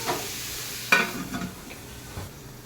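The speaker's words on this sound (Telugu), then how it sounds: "ఇది కూడా వేసుకొని ఆయిల్లో కొద్దిగా ఒక 2 నిమిషాలు బాయిల్ చేసుకుందాం" Boiled food fries in a little oil in a pan with a lid, giving a soft steady sizzle with a brief stirring scrape near the start and no talking.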